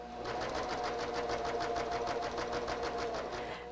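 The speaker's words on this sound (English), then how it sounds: "I will place those in my serger, you know, underneath, make sure the needles are going to land in this" A serger stitching a hem onto scraps of tearaway stabilizer, a fast, even mechanical whirring chatter running steadily throughout, close and moderately loud with no talk.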